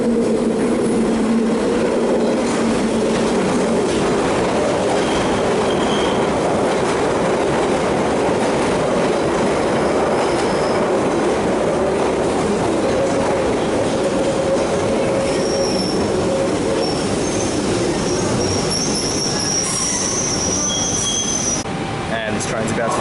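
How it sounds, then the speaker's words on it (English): A London Underground Central line train pulls out of Bank station, a loud sustained rumble and rising motor drone filling the platform, with high wheel squeals and faint talk underneath throughout. "And this train's about to depart."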